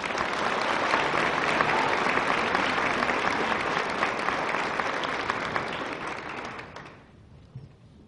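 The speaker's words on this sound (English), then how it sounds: "Give them a big round of applause," An audience at a Christmas choral concert breaks into sustained, full applause for the trumpet and vocal soloists, holding steady for about seven seconds before it fades out.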